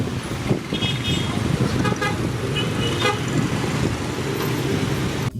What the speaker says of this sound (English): every step feels like a gamble against the relentless flow of motorbikes and cars